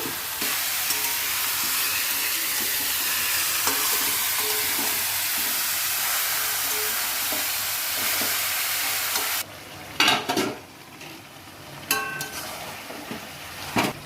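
Chicken pieces sizzle loudly in a pan with onion and tomato cooked down in oil for kosha mangsho, a steady frying hiss that cuts off into quieter scraping and clattering stir strokes near the end.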